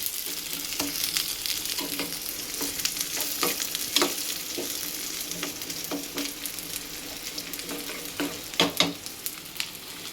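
Onions browning in hot oil for egg biryani, a steady crackling sizzle with scattered pops and stirring clatter, close up and continuous with no talking.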